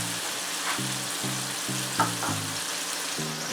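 Onion frying in a pan for ackee and saltfish, a steady soft sizzle with a bright crackle near the middle, under repeated low humming tones, no talk.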